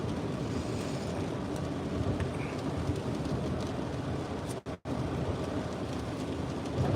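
Rain pours steadily on a car while it's out on a delivery run, a continuous hiss and patter with one brief dip in the middle and no talking.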